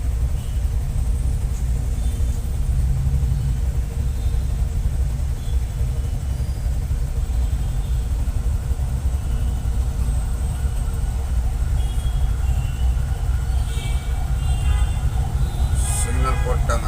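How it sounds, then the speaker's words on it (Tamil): Road traffic stuck in a jam near the Olympia signal in Chennai: a continuous low rumble of idling cars and heavier vehicles, with occasional faint horns, steady throughout. "ஒலிம்பியா சிக்னல்ல இருந்து நம்ம ஈக்காட்டாங்கல் மெட்ரோ வரைக்கும் டிராஃபிக்கில் நிற்கிறோம்"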